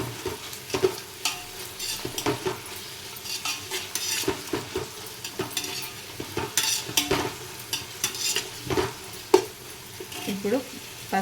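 Ginger garlic paste frying in a pot for egg biryani, a busy close sizzle with frequent clattering spoon strokes against metal, fairly loud and continuous throughout.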